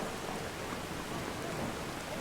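Steady rainfall in the Ultimate Skyrim video game, a dense, even hiss of drops that holds at a constant moderate level throughout with no voices.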